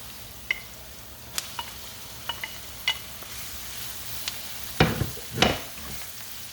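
Pork hitting a pot of oil and watery onions for a green chile stew, a low sizzle with scattered sharp clicks of a utensil and a couple of louder stirring bursts near the end.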